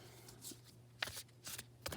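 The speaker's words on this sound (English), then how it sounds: "I'm just going to go ahead and shuffle for a little while." Tarot cards shuffled at close range in a quiet room, several soft riffling bursts separated by brief pauses, with a faint steady hum underneath and no talking.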